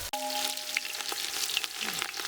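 Chilies, onions, ginger and garlic fry in a pan for a village-style goat boti fry, a close, steady crackling sizzle with light stirring clicks and no speech.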